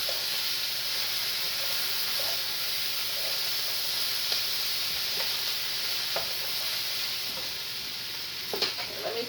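Bacon sizzles and spits steadily in a frying pan, a constant close hiss with scattered pops and crackles and a few scraping clicks near the end, no voices.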